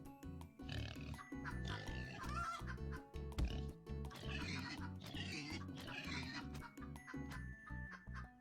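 Pig oinking in the video game Turnip Boy Commits Tax Evasion, a string of short grunting oinks in rapid bursts alongside clucking game sound effects and light music.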